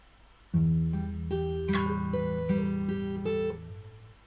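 Fingerstyle guitar plays a short phrase of a song from Final Fantasy X at full speed, a few plucked notes ringing over a sustained bass, clear and close with no talking.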